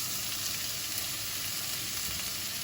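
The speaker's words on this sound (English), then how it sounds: "just going to add our garlic now" Two garlic cloves sizzle steadily in a frying pan for a katsu chicken curry, a dense, continuous frying hiss close up with no speech.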